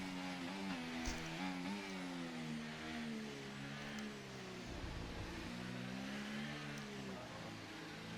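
F1 24 race cars driving in a video game, a continuous high-revving engine whine that climbs and shifts through gears, with a second car's engine layered in, moderately loud and steady, no talk.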